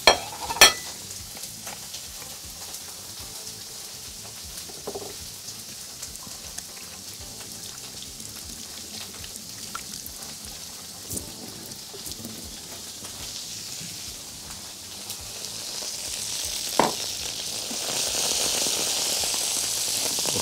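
Sausages frying in a pan with cabbage, German style, a steady soft sizzle and crackle with occasional sharp clacks of a utensil, swelling into a louder hiss near the end.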